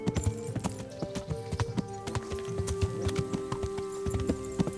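Horse hooves clip-clop in a steady walking rhythm within the medieval game Kingdom Come: Deliverance, close and fairly quiet over faint background music, with no talk.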